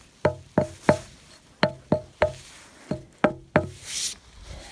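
Hollow knocks on a light, lichen-covered boulder in the Chaco Canyon area, about nine sharp, resonant raps in irregular pairs and triples, close and fairly loud with no talk over them.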